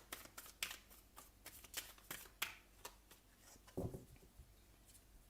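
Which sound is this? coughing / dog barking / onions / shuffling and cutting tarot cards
shuffling and cutting tarot cards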